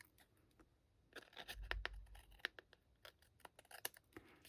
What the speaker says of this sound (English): we're going to turn it over and trim off all these overhanging pieces